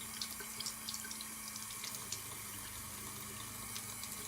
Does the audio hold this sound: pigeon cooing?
no